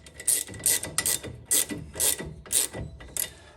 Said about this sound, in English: let's tighten it down. My new kit is a 19 millimeter, so we'll tighten that down now.